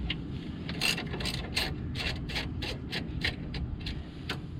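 Rapid ratchet clicks in irregular bursts as a socket wrench loosens bolts on an Aqua-Hot diesel burner in an RV, close and fairly clear over a low steady hum.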